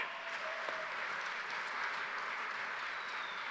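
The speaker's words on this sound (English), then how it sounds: "How about another big round of applause for Mark?" A graduation crowd claps steadily at a moderate distance, a continuous even wash of applause filling the hall without any noticeable rise or fall.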